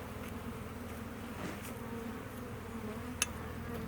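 Agitated honeybees swarm around an opened hive, their buzzing a continuous close drone with individual bees whining past, plus a faint click near the end.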